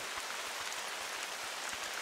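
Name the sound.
rain in the video game The Hunter: Call of the Wild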